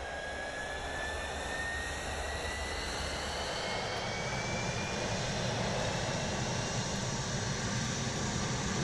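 Loud, steady roar of a Mirage 2000C French fighter jet engine in a Microsoft Flight Simulator 2020 add-on, heard from outside close by, a broad whooshing drone with a faint rising whine, constant throughout.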